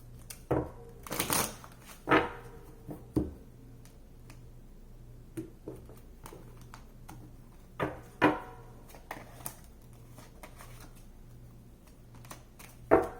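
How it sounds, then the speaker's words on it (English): Tarot cards being shuffled up close in scattered short bursts of riffling and flicking, separated by quiet pauses. "one more shuffle"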